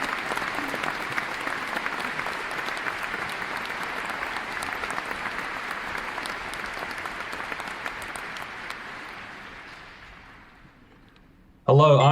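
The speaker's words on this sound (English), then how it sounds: "Keep that round of applause going for the people behind the scenes" A theatre audience applauds the cast, creative, technical and production team of a performance of The Tempest. Sustained, dense clapping runs for about ten seconds, then tapers off before a voice abruptly starts speaking.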